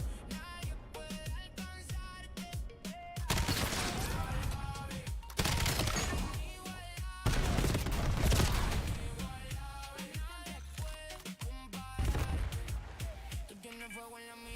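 Gunfire from a gunfight in Call of Duty: loud bursts of automatic shots and cracks arriving in clusters, mixed with background music and occasional talk.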